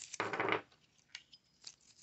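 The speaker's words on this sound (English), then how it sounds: "I'm going to use some tape" Adhesive tape being pulled and wrapped around the bottom of a popsicle stick: one close, loud tearing rip of tape off the roll, followed by a few faint crinkles and small taps.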